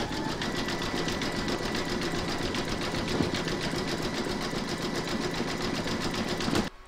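An embroidery machine runs a zigzag stitch along the joins of a quilted placemat in the hoop, a fast, even mechanical chatter sustained for several seconds before stopping abruptly near the end.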